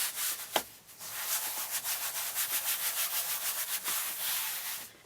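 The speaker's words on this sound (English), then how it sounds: "to rub that edge" Fabric being rubbed down by hand along its edge onto a Cricut Maker cutting mat, a close, steady run of soft brushing strokes in quick rhythmic repetition with a sharper tap near the start, no talking.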